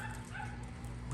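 Several dogs yip and bark in a fast, overlapping stream, fairly loud and close, with barely a pause across the short stretch.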